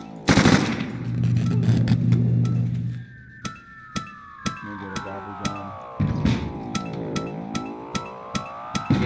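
Rapid automatic gunfire from the Call of Duty World at War Zombies mode on a Minecraft village map: a loud burst of rattling shots, then spaced single cracks over rising and falling sweeping electronic tones.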